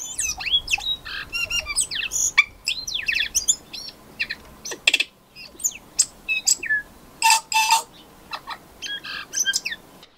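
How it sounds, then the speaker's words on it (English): A New Zealand tui sings a busy, varied song of sharp squawks, whistles, rising and falling chirps and clicks, close and clear over a quiet background with no voices. "Now tui have the most amazing songs."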